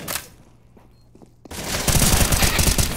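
Rapid bursts of automatic gunfire from a Counter-Strike: Global Offensive match, loud and close, with a quieter stretch of faint footsteps and game sounds before the firing erupts halfway through.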